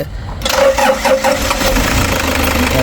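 A Toyota Hiace GL van engine cranks briefly, then catches and settles into a loud, close, steady idle with a rhythmic mid-pitched rumble; no talk.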